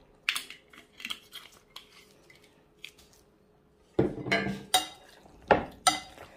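Eggplant makdous mixture with olive oil and salt is stirred and mixed in a bowl. Soft, wet scraping and squishing strokes are sparse and faint at first, then turn into louder, close, irregular scrapes and clinks.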